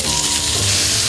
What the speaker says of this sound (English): You need to gently put the beef in and spread it out evenly so it browns.